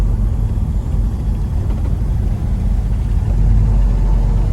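A 1972 Chevrolet Chevelle drives on a hot 90-degree day, its engine giving a loud, steady low rumble heard from inside the car without a break.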